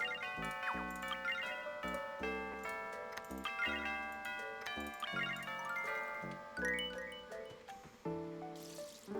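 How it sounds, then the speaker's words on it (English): A melodic chime marking one o'clock in the video game Magician's Quest: Mysterious Times, bright bell-like tones ringing in a tuneful sequence, clear and moderately quiet, with no talking over it. "It's the 1 o'clock bell."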